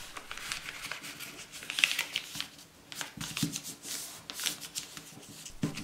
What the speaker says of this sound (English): Fold in half again and make a strong crease.